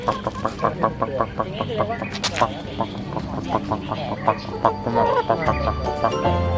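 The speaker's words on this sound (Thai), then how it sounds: "ไก่เต็มหมดเลย" Chickens cluck at a cafe in Chiang Mai with a rapid run of short, repeated calls and an occasional crow. A person talks nearby under and between the calls.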